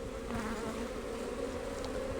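Honeybees hum in a continuous, dense drone from a full hive opened for inspection, close and steady throughout with no speech.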